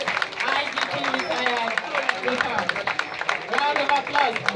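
Audience applause at a police handover ceremony for a new acting Inspector-General of Police, dense steady clapping from a crowd filling the whole stretch, with voices mixed faintly under it.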